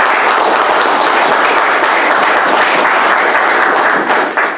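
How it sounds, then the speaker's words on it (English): A conference audience applauds its speakers at a climate-data event during the Paris COP-21 summit, with loud, steady, dense clapping that stays even throughout and has no talk over it. "A round of applause for all of our speakers."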